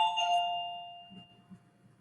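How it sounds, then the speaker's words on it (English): A doorbell chimes once at the start, its bright tones ringing out and slowly fading over a faint low background hum. "I think my dog just hit the doorbell to go outside."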